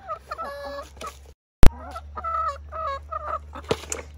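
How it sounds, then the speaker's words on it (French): Hens clucking close by in bursts of throaty, overlapping clucks, with one sharp click in the middle and a low steady hum underneath. "elles s'impatientent, les poules"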